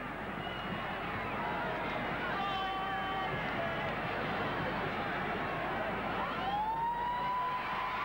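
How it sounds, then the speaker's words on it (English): A full-time siren wails over a dense, roaring rugby league crowd at a 1986 Manly versus Parramatta match, with a rising tone near the end as the crowd noise swells. "And there's the siren."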